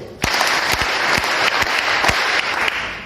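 A church congregation bursts into loud, dense applause, sustained hand clapping filling the space for a few seconds with scattered sharper claps standing out.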